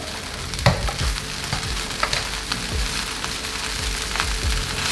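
Nasi goreng fries and is stirred in a small wok, with a steady sizzle broken by repeated scraping and clanking strokes of the spatula against the pan, close and fairly loud.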